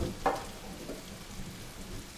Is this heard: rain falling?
yes